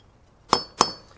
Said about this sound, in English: you have something to rest your punch on while you're hammering